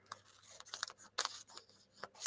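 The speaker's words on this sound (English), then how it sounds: "So let me just take a pair of scissors and just snip this up." Scissors snip through a thin plastic poly bag in a quiet room, a quick irregular run of sharp crisp cuts and crinkles, close and alone.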